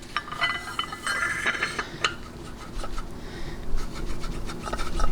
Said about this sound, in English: we'll go ahead and now test fit the bushing with the input shaft